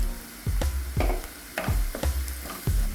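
Onions frying in a pan with salt as curry leaves go in, sizzling steadily while a spoon scrapes and stirs in several quick, regular strokes close by.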